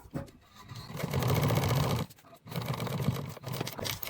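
A sewing machine stitches a fabric bag in rapid mechanical bursts, a close, loud rattling whir that stops briefly midway and then resumes.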